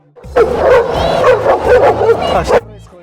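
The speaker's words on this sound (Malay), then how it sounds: "Di sini kami terpaksa merempuh sekumpulan anjing besar." A pack of big dogs on a street in Medellin, Colombia, barking loudly and close in a dense run of overlapping woofs and yips, with whimpering mixed in, before stopping abruptly.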